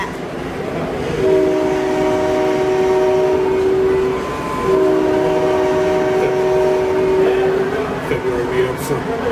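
A train rolls along and sounds two long, loud, steady whistle blasts, the second following a short pause, over a rumbling ride with voices now and then.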